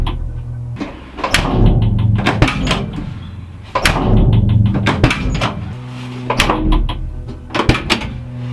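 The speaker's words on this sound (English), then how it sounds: "Sound test 2 with the passenger side door shut." A first-generation VW Caddy pickup, fitted with sound deadening, has its passenger side door shut. Several hard thuds land at intervals over a low, steady rumble, with no talking.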